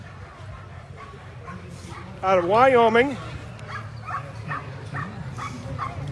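Sled dogs at the start of a sprint race in Anchorage, Alaska, bark and yip faintly in the background under a commentator's steady talk, with one louder howling whine rising briefly mid-clip.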